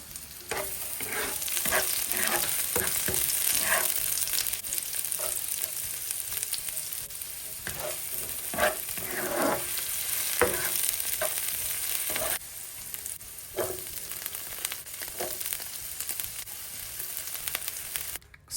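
Onion, scallion, sweet pepper and garlic sizzle steadily in hot oil left from frying meatballs, a constant frying crackle with occasional scraping stirs, close by and moderately loud, no voices.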